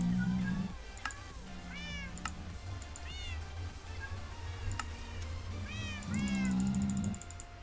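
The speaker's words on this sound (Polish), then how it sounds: "Tu usiadł kot." A cat in the Minecraft video game meows repeatedly in short rising-and-falling calls, clear and up front, mixed with steady keyboard and mouse clicking and background game tones.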